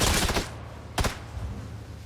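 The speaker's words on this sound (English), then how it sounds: "Oh, they're shooting at us." Video game gunfire in a shooter: two clusters of sharp, loud shots, a burst at the start and another near the middle, with low rumbling between and no talking.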